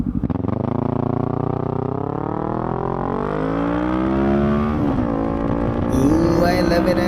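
A motorcycle fitted with a new exhaust runs on a test, its engine revving up in a rising, steady whine that climbs in pitch, loud and close, with no talking.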